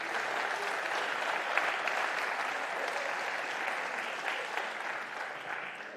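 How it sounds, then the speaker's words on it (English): Steady, dense applause from an audience welcoming a visiting squash team at a Dutch squash league evening at the Frans Otten Stadion in Amsterdam, sustained and even throughout with no voices over it. "Round of applause."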